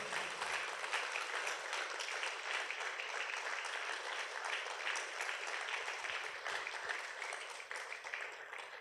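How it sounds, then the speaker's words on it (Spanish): A church congregation applauds steadily for several seconds, a continuous wash of many hands clapping at moderate distance, fading a little toward the end. "¿No le da un aplauso al Señor, mi hermano?"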